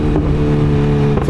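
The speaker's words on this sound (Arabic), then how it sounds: "لقيتوني دابا كنتيستي الاسم الار ار ديال عبدو. تبارك الله موتور نادي" A BMW S1000RR motorcycle engine runs loud and close in a short burst, a steady high-pitched tone with a brief rise like a rev.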